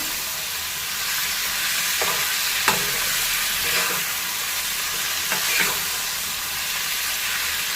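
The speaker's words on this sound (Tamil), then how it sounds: "நல்லா அந்த மசாலா மட்டும் ஸ்ப்ரெட் ஆகட்டும், அது வரைக்கும் கிளறி விடுங்க" Masala for thokku fries in a pan with a constant close sizzle, broken by a few short scraping strokes of a spoon stirring through it, with no voices.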